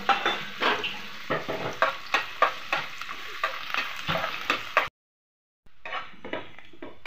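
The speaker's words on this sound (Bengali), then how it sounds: "আমি রসুন আর কাঁচা লঙ্কা ভেজে নেব" Garlic and green chillies frying in oil in a wok over a village cooking fire, a steady sizzle punctuated by repeated scraping stirs of a spatula against the pan, then a brief cut to silence before frying resumes faintly.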